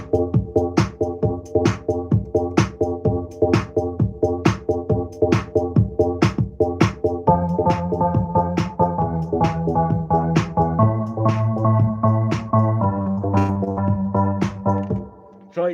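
A MIDI keyboard melody plays with regular rhythmic note attacks and sustained chords shifting lower partway through, clean and upfront with no voices.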